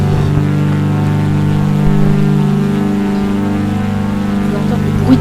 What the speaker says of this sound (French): Vous entendez le bruit du moteur, c'est un truc très réaliste.